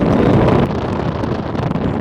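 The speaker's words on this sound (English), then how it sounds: "Getting a little windy here." Steady, loud wind buffets the microphone on a ship's deck in the Panama Canal with a broad roar, gusting slightly, with a hint of water and boat noise beneath, and no voices.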